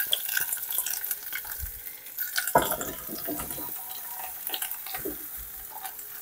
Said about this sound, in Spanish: Vamos a dorar un poquito la verdura antes de añadir el agua.